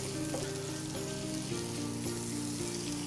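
Minced garlic sizzles steadily in a pan alongside onion and pepper, a soft, continuous frying hiss with faint stirring knocks under a low background hum.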